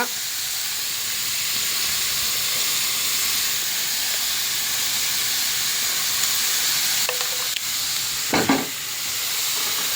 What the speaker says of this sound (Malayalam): ഉപ്പ് ചേർത്തിട്ടൊന്ന് ഇളക്കുക.